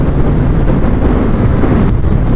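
Hot desert wind near Furnace Creek in Death Valley buffets the microphone, producing a loud, continuous rumbling roar with no voices.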